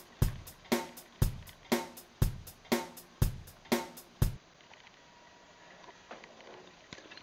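A pop verse drum machine pattern plays about nine sharp, evenly spaced hits, kick and snare strikes with bright cymbal tops in a steady groove, then stops, leaving faint room noise.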